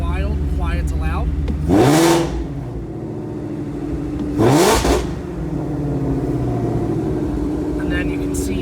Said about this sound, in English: It still retains the dual mode exhaust switch in the dashboard, so you can control mild to wild, quiet to loud.